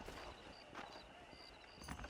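Horse hooves clip-clop in Red Dead Redemption on PC, a steady run of hoofbeats through ambient game sound, with some speech present.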